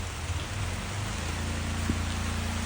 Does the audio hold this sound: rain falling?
yes